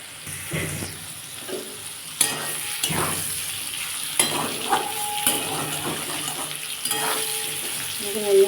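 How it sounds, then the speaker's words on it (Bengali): Parwal (pointed gourd) pieces sizzle steadily in hot oil in a pan, with intermittent stirring scrapes and light metallic clinks of a spatula against the pan. "পটলটা এখনও ভাজা হয়নি এখনও ভাজতে হবে"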